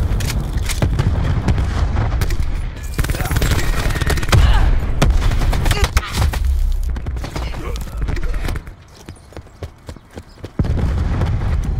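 Rapid bursts of gunfire and heavy cluster grenade explosions from a first-person shooter video game, loud and dense with a brief lull before firing resumes, under game announcer voices.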